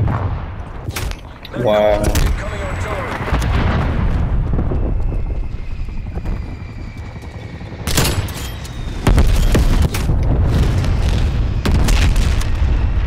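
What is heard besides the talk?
artillery strike explosions in video game Call of Duty: Black Ops Cold War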